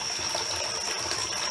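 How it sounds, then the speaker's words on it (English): A waterfall produces a steady, dense rush of falling water, loud and continuous with no breaks, heard alone without any voices. "that's a lot of waterfall, isn't it?"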